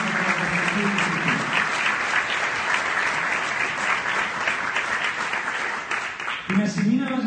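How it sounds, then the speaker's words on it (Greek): Audience applause at an event in Giannitsa, Greece: a sustained burst of loud clapping from a crowd, with a voice speaking over it near the end. "θα ήθελα το πιο δυνατό σας χειροκρότημα"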